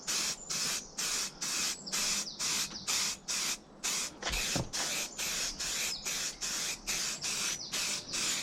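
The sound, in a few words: spray painting a coat on BMW E34 headlight surround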